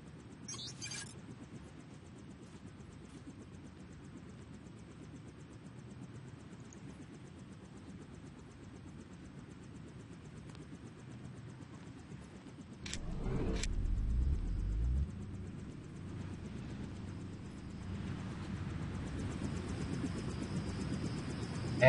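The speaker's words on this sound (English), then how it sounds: "And again, I'm not sure why these newly renewed MJ-12 troops aren't attacking Jock's helicopter." A steady low engine drone of a helicopter in the video game Deus Ex hums throughout, with a sudden louder rumbling burst partway through before settling back to the constant whir.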